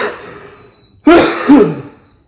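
A single close, sharp cough bursts out and quickly fades, set against a quiet indoor kitchen while spaghetti with meat sauce is being made.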